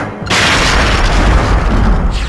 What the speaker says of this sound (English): the remote mines will detonate